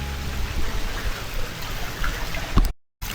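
Water runs steadily for bathing in a homestay bathroom, a continuous close-up splashing rush that cuts out briefly near the end and then resumes.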